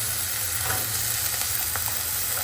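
Chopped onion, green chili and potato frying together in a hot pan for a vegetable dish, a steady loud sizzle with light stirring scrapes, close and continuous without talk.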